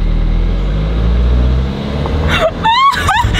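Close, loud low rumble of a car engine during a driving lesson as the accelerator is pressed while reversing, fading as voices speak over it.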